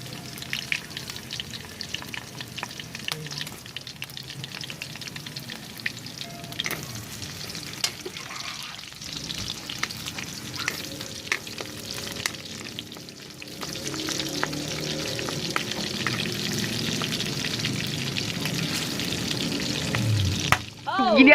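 Garlic, onion and chili sautéing in hot cooking oil for a Filipino pork binagoongan, a steady close sizzle with stirring scrapes throughout, swelling louder in the second half and briefly spiking at the very end.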